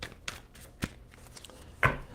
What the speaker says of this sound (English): Give me 2 shuffles.